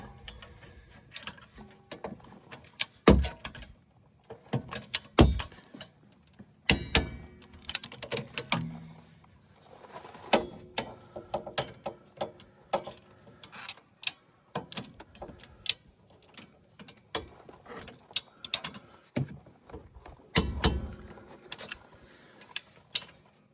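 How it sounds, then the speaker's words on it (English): Torque wrench clicking and ratcheting as caliper bracket bolts are tightened to 50 pound-feet on a 2017 Subaru Impreza during a wheel hub bearing job, giving scattered sharp ticks and clacks close by with no talk. "we'll go ahead and torque these caliper bracket bolts"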